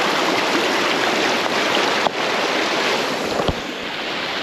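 Flooded river rushing past a wild campsite in a hidden valley, a loud continuous roar of fast water with a couple of brief knocks.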